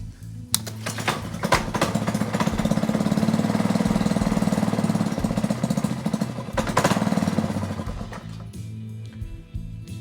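A Ryobi pressure washer engine idles roughly and loud nearby with a rapid chugging rattle, surging steadily before easing off and dropping lower near the end.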